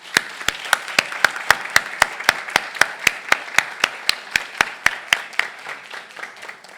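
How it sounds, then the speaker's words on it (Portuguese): Audience applause at the close of a book launch session, heard as a steady, evenly spaced run of loud, sharp claps that slowly fade, with no talking over them. "Pido un gran aplauso para ellas."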